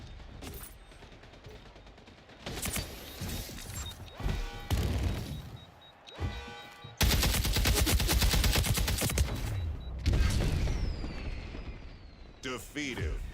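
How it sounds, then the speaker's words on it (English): Shotgun blasts and other gunfire crack out in bursts throughout a Splitgate 2 arena shooter match, loud and close, with a dense barrage in the middle and scattered shots at the end, under talk. "Damn shotgun."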